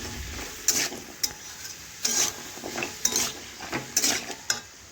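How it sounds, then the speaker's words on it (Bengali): A spatula scrapes and stirs pumpkin frying in a pan, giving several distinct metallic scrapes and clatters over a soft, low sizzle, close by with no talking. "এখন আমি সমস্ত কিছু একসাথে খুরপি দিয়ে নাড়াচাড়া করে কুমড়ো একটু ভেজে নিচ্ছি।"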